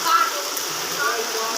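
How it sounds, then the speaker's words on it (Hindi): Steady heavy rain pours down in a village, water pooling on the road, a continuous hiss of falling water with a voice talking over it. "अभी भी बारिश बरस रही है,"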